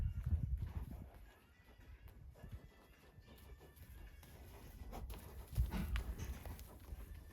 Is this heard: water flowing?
no